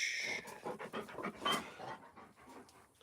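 A puppy pants indoors in quick, steady, close, faint huffs, with a brief whimpering tone near the start.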